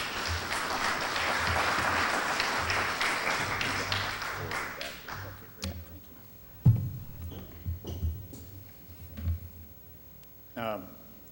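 A conference audience at a Tacoma drinking-water panel gives a burst of sustained applause for about five seconds, which fades into scattered claps, shuffling and a few thuds as a speaker takes the stage.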